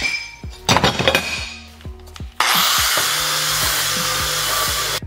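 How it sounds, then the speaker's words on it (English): An angle grinder fitted with a flap wheel spins up with a sudden loud, harsh whir that holds steady to the end, following several seconds of clattering and tapping sounds. "This is an angle grinder with a flap wheel."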